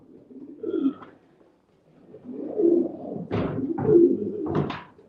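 Racing pigeons in a Flanders loft, including a national ace champion, give several soft, low cooing calls close by, with faint rustling and a few sharper wing or movement sounds.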